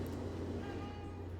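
A cat meows in the game Myst 3: Exile, a short, close call over a steady low hum.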